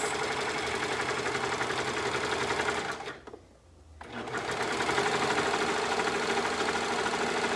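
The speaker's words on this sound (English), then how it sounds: "I'm going to start by sewing those 2 together" Sewing machine stitching two fabric pieces together, a steady close mechanical whir and rapid needle chatter that stops briefly for about a second, then resumes at full speed.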